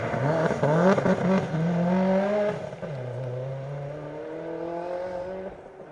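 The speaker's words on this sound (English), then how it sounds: "I can hear one of the Peugeots making their way through" A Peugeot rally car on a forest stage of the Rally North Wales, a Welsh Rally Championship event, shifts up through the gears, its engine note rising and stepping in clear harmonic sweeps, fairly close and steady throughout.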